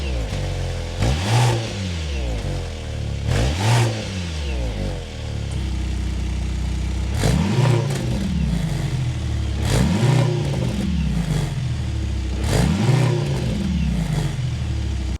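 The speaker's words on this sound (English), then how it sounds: "start it up so you can hear that exhaust note" A 2025 Mercedes GLC AMG 63 S E Performance hybrid starts up and revs repeatedly, its engine and exhaust climbing and falling in several loud, close bursts over a steady idle.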